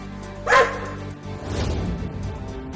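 Cartoon dogs give one sharp bark near the start, followed by lower, rougher growling and yapping noises that trail off under a faint background.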